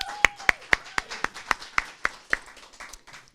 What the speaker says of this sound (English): Can we get an applause for that?